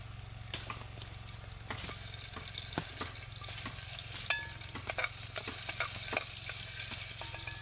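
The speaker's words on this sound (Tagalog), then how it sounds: "gigisa na lang muna natin to" Vegetables sautéing in a pan outdoors on a farm, a continuous low sizzle with repeated sharp stirring clacks of a utensil against the pan.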